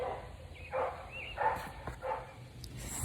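A dog barking from a distance, several separate muffled barks spaced about every half second to second, faint over low background hum.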